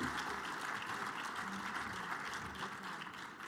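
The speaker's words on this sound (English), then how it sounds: "Let's give him another round of applause." Sustained audience applause fills a breakfast economic forecast event after a speaker finishes, a steady dense clapping that holds evenly throughout at moderate distance.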